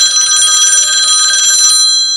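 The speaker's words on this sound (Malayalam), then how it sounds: "ഡോക്ടർ നമുക്കൊരു കോൾ ഉണ്ട്, നമുക്ക് അതിലേക്ക് കിടക്കാം." A telephone rings for an incoming call in a comedy skit, a loud, bright electronic ring that sounds continuously for about two seconds and then cuts off, with no one speaking.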